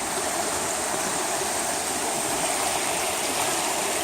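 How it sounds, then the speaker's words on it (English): Mountain stream in Smoky Mountain National Park rushing steadily near a mill race, a close, constant broadband hiss of flowing water with no voices. "Here's the stream."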